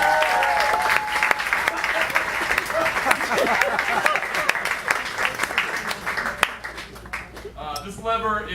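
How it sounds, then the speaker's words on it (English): Audience applause at an improv comedy show, a dense wash of clapping from a crowd that runs steadily for several seconds before tapering off, with a voice briefly audible near the end. "So please give a round of applause for the giant lever."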